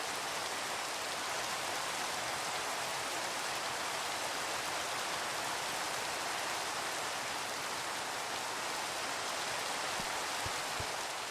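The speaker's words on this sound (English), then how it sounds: "Well, it's raining actually." Steady rain falling outdoors, a dense continuous hiss of drops that holds at an even level throughout with no talking.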